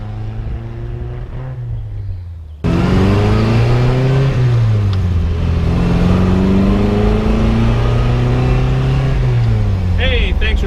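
A 1966 MGB roadster engine drones steadily while driving, pitch rising and falling through gear changes, loud and close, with brief talk early on.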